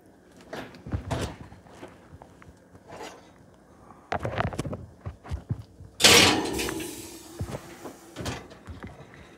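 Kitchen oven door opening and closing to bake a cobbler: several close clunks and rattles, a sharp metallic bang near the middle, then lighter knocks, with no voices.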